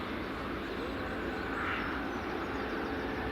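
Ryanair and American airliners moving on the runway at Edinburgh Airport, a distant steady jet engine roar with a faint broad whoosh, muffled and continuous without clear rises.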